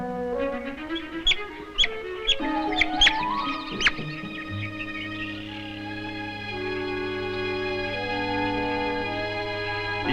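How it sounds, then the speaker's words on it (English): A baby otter only a few weeks old cries for its mother, giving a run of high, squeaky, whistling calls that give way to longer drawn-out tones. "A baby otter, only a few weeks old, is calling for his mother"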